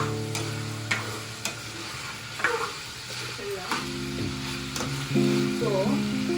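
Chicken masala gravy sizzles and bubbles in a pan while being stirred, with scraping and clinking of the spoon against the pan at irregular moments; the frying stays close and steady throughout.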